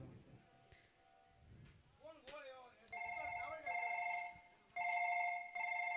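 Phone ringing while a call is placed, a repeating electronic ringback tone in steady bursts following brief speech and clinks, moderately loud and close.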